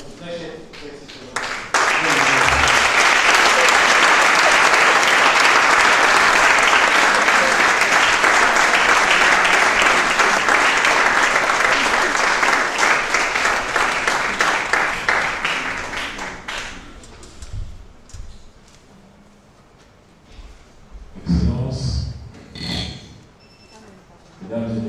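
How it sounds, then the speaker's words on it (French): Thunderous applause from a large audience at a formal Cameroonian ceremony honouring a president, loud and sustained for about fifteen seconds before fading into scattered claps and murmuring voices. "réserver un tonnerre d'applaudissements en l'honneur de notre très cher président"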